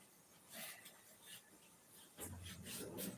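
Rough rasping strokes scrape back and forth in an uneven rhythm, quiet and close, with a brief pause before they resume more strongly.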